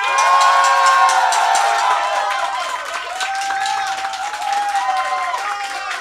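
An audience at a Fender Day guitar battle cheers, whistles and applauds a guitar contestant, a loud, dense crowd roar with shouts that stays strong throughout and eases slightly toward the end.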